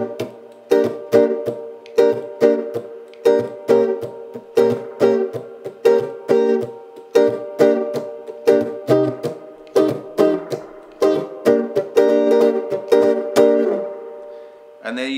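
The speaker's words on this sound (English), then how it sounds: "So if we put that all together as a 12-bar blues, it would sound like this." Jump blues chords are played through a full 12-bar blues progression in a swinging rhythm, with crisp, evenly spaced chord stabs, loud and close, and no talking.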